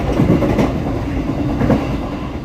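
The Motis Selatan passenger train runs along rails in Indonesia, a loud, steady rumble from close by with rhythmic clickety-clack of wheels over rail joints and no speech.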